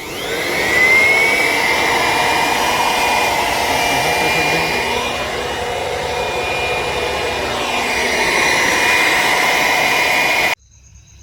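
An air blower forces water out of a Tata Nexon engine bay during servicing, a loud steady whooshing roar with a shifting whine that cuts off abruptly near the end.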